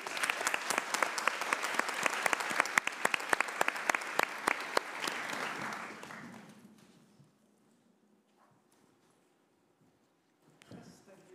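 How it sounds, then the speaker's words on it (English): Audience applause welcoming a speaker at a feminist climate academy event, dense clapping for about six seconds that fades to quiet, then a faint shuffle near the end. "May we please have a big round of applause for Kemal Farah, everyone."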